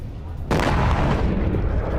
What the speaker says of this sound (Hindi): IRGC के ड्रोन लॉन्च सेंटर पर विस्फोट हुआ है